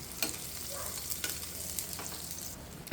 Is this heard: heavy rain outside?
no